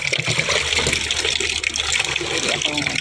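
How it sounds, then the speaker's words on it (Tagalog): Water runs steadily from a tap or pour outdoors during a morning routine in the Philippines, a continuous splashing rush that stays close and fairly loud throughout. "ito ang tubig."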